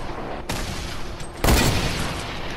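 AR rifle fire rings out in a 50v50 shooting video game, with a dense burst of shots starting partway in, then a louder, sharper volley that stays heavy to the end.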